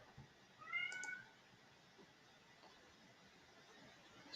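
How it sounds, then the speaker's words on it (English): A house cat gives one short, quiet meow nearby against a soft, hushed room background, with no voices over it. "Shut up, cat."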